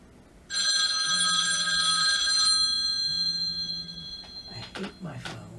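A telephone rings with bright, sustained electronic bell tones in a couple of long bursts, loud and close, fading out as a person starts talking near the end.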